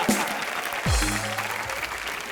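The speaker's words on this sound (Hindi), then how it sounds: "जोरदार तालियां" Studio audience applause on a televised Punjabi versus Bhojpuri celebrity game show, a brief burst of clapping layered with a swooping musical sound effect.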